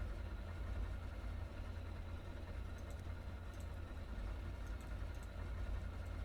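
The center engine of a Trimotor airplane idles in a flight simulator game: a steady low rumble and drone, even and unbroken, with faint mechanical vibration and no voices.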